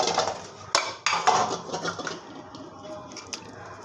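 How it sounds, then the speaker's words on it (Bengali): Pieces of tengra fish go into a radish and potato curry in a pan, with close metallic clinks, soft wet plops and light scraping against the pan in short bursts. "সাথে আমি দিয়ে দেবো মাছগুলো"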